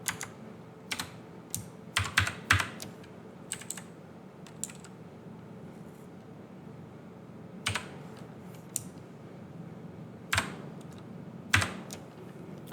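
Keys on a computer keyboard clatter in short bursts and single taps while Python string code is entered, close and fairly quiet, with pauses between clusters and no voices.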